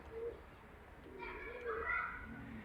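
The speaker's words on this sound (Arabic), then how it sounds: "شفتوها الحميمات ديالنا راه مطيرين، تخلعهم شي حاجه تيطيروا" Domestic pigeons on a rooftop give soft, faint coos over a quiet background, a few short calls with a light flutter, and no clear talk.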